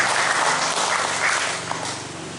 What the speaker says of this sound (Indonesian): Tepuk tangan dulu untuk ketua Popis.